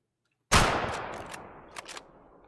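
A single hunting rifle shot in the hunting game Way of the Hunter, loud and sharp at the onset, followed by a long rolling echo that fades over two seconds.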